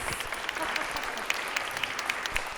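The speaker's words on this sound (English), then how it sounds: "so let's give them a round of applause." Indoor audience applause greets a group of performers at an arts showcase day. The steady, moderately quiet clapping runs for a few seconds, with scattered sharper claps standing out.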